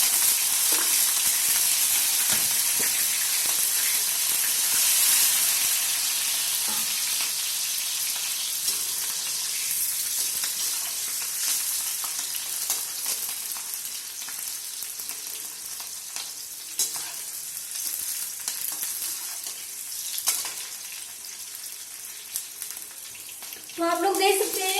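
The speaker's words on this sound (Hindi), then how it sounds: "तो आप लोग देख सकते हैं कि हरी मिर्च हमारी अच्छे से फ्राई हो गई है।" Green chillies sizzle and fry in hot oil with crackling cumin for a samosa filling, a steady close hiss with occasional stirring sounds throughout, a voice briefly heard.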